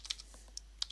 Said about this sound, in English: we log in just by typing the username and password